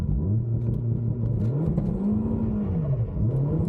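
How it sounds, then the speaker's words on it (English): A 300hp Vauxhall VXR car runs on an empty countryside road at dawn with a steady mid-pitched engine drone that rises and falls as the revs swell and ease, heard from a moderate distance with no talking. "someone allegedly testing launch control at 6 AM on an empty road in the countryside"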